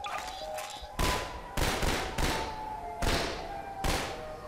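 Gunfire in a Siren Head monster video game: five loud, sharp shots ring out about a second apart, each a broadband blast with a short decaying tail over a steady game ambience.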